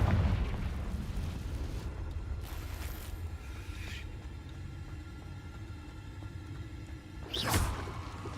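The Confringo blasting spell going off in a wizard game, with a few muffled bursts over a steady low rumble and one sharper, louder blast near the end, and no voices.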